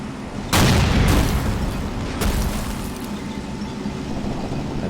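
Tank in Men of War firing a high-explosive shell: one loud booming blast with a rumbling tail, then a second weaker thud, over a steady low battlefield rumble.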